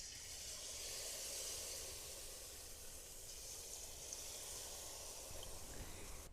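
Jalebis frying in hot oil, a faint, steady broadband hiss and soft sizzle that continues evenly throughout without distinct pops or voices.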